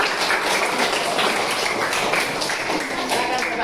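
Classroom applause during an academic supervision session, a dense steady patter of clapping from a group of people filling the room for several seconds without a break.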